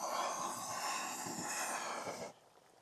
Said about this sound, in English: Yeah, that's boiling big time.